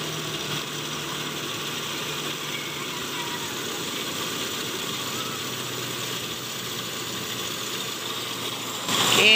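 A Toyota Kijang with a 5K engine idles steadily after starting, a faint, even mechanical hum with light rattling under background noise, with a brief louder burst at the very end.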